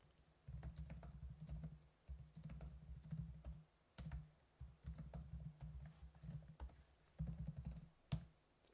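Code being typed on a computer keyboard, quiet close key clatter in bursts of rapid strokes broken by short pauses, with a few sharper single taps and no speech.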